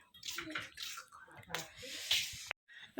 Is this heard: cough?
no